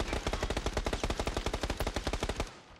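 Rapid automatic gunfire in the video game PUBG Battlegrounds rattles off as a dense, evenly spaced burst of sharp shots lasting a few seconds before cutting off, with no talk.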